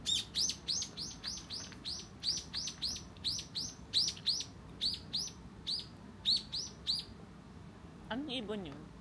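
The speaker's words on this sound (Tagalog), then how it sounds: "Anong ibon yun?" A small bird chirps repeatedly in Honjo Senbon Sakura cherry blossom park in Japan, a steady series of bright, fairly near tweets in rhythmic bursts over soft outdoor ambience, with a voice speaking briefly at the end.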